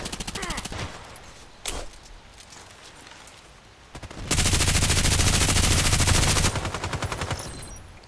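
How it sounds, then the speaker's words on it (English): Automatic gunfire in the online shooter Contract Wars, a long loud sustained burst of rapid shots after scattered earlier shots and quieter stretches. "And everybody's shooting."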